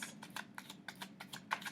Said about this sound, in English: I'm shuffling now, hoping that the cards will pop out sooner rather than later